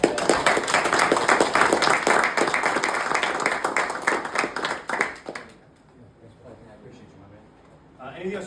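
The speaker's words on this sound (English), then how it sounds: "Let's get one more round of applause" Audience applause follows a sales mentorship talk as the crowd gives a guest another round, dense clapping filling the first five seconds before dying away into quieter room noise and talk.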